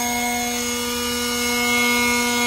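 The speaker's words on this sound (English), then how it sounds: "Put my new blower to the test." A Ryobi One+ 18-volt cordless electric leaf blower runs steadily nearby, giving a constant high-pitched whine with a strong fan tone and no breaks.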